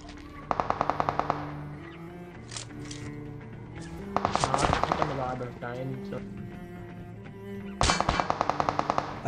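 Automatic gunfire sprays in the mobile battle-royale game PUBG Mobile, three rapid bursts of loud shots spread across the stretch, with someone talking over and between them.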